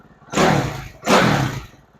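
A 2007 Suzuki RM-Z 450 dirt bike with a smoky, recently rebuilt engine is blipped twice, each throttle bump rising into a loud roar and falling back toward a low idle, close by.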